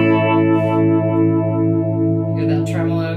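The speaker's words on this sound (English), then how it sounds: "Now here's reverb and tremolo at the same time on a relatively middle setting." An electric guitar runs through an effects pedal with reverb and tremolo both at a middle setting. A loud, sustained chord rings steadily with a gentle wavering pulse and a washy tail.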